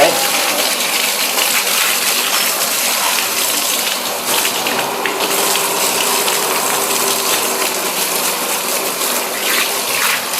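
Water rinses the chain of a Honda CBR650F motorcycle, a steady, loud rushing splash that runs unbroken from start to finish with no clear pauses.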